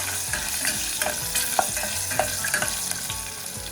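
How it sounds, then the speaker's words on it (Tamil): Green chillies sizzle and fry lightly in hot oil already used for frying onions, a loud, steady crackle with occasional stirring clinks and scrapes close by, no voices. "பச்சை மிளகாய் அதையும் நான் இதே எண்ணெய்க்குள்ளே போட்டு ஒரு லைட்டாக பொரிச்செடுக்க போகிறேன்"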